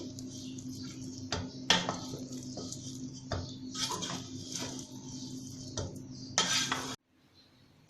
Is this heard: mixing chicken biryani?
yes